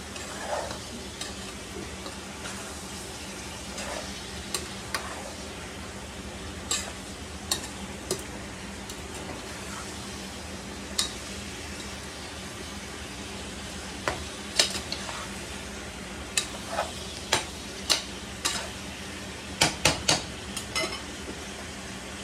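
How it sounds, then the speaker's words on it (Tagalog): Pakbet vegetables, eggplant, okra and string beans, stirred in a pan, giving soft scraping and sizzling with scattered sharp clicks of a utensil against the pan, steady and close with no talking. "Hinalo ko na pala yung hindi ko na yung talong, yung okra saka yung sitaw"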